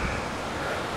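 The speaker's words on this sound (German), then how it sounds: "Also wenn da so ein richtiger Windstoß kommt, ey, das bremst mich runter bis auf Schrittgeschwindigkeit auf Stufe 4." Strong headwind gusts rush past a cyclist towing a bicycle caravan, a dense, steady broadband roar of wind on the microphone, loud and continuous with no voices.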